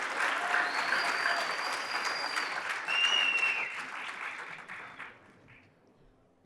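Audience at a crypto exchange event applauding as a speaker is introduced, sustained loud clapping with some crowd noise and a few cheers, then fading out near the end.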